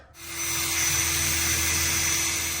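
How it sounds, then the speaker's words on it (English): A drill starts up and runs at a steady high-pitched whine, drilling a hole for a seat mount in a 1952 Dodge, close and loud, continuing without a break. "We'll drill this hole, and now we'll for sure be able to get it back aligned."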